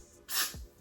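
A short, sharp hiss of an aerosol spray can bursts once for about a quarter second, close by, then cuts off.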